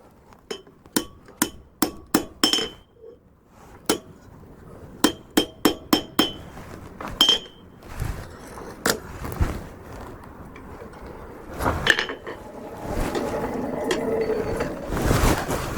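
A hammer strikes a forged cabinet handle leaf on an anvil in a quick series of sharp, ringing blows, then sparser strikes amid shuffling and scraping noises.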